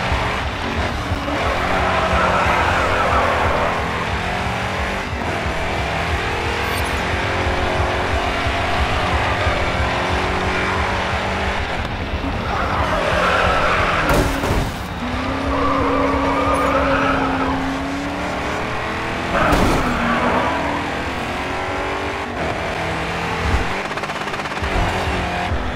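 Race cars in the GRID 2 racing game drive hard and skid for the whole stretch, with engines droning and tires squealing in rising and falling bursts near and loud, with no talk over them.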